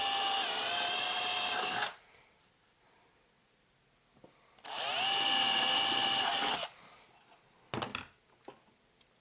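A power drill bores holes in a metal chassis for an all-tube phono preamp: two loud whining bursts, each about two seconds, split by a quiet pause, then a few faint clicks and taps.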